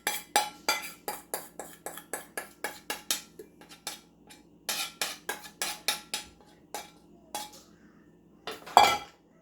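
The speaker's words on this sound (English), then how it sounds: "Remember to scrape out your bowl." A utensil scrapes sourdough starter from a bowl into a jar, giving a quick run of close, clinking taps and scrapes against the bowl, a pause, then more scattered clinks and one louder knock at the end.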